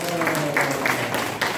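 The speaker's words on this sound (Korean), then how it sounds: "격려 박수 한번" An audience at a local literature exchange exhibition ceremony gives a short burst of encouraging applause, scattered claps rising and falling over a couple of seconds with some background voices.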